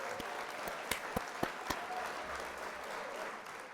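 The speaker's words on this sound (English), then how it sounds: "Let's go ahead and hit the applause there." An applause sound effect played on a livestream, a dense recorded crowd clapping heard faintly and steadily, with a few sharper nearby clicks or taps breaking through in the first half.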